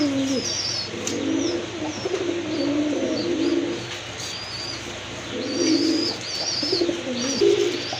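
Large running pigeons coo steadily and near, layered low throaty calls with occasional higher chirps over constant background noise; a brief spoken phrase.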